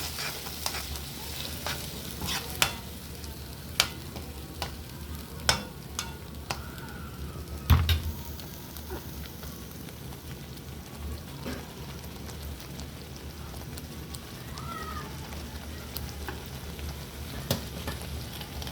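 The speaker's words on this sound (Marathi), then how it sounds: "आणि आता याच्यात आपण टाकूया वाटण टाकूया. वाटण टाकूया. आणि मिक्स करून घेऊया." Ground masala paste frying in a pan gives a continuous sizzle under a scatter of spoon scrapes and taps from stirring, fairly close, with no talk throughout.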